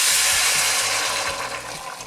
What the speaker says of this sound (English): pardon the noise, that's hot water